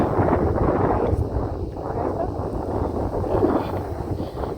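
Steady, loud wind buffeting outdoors in Montego Bay, a broad rushing roar that swells and eases without pause.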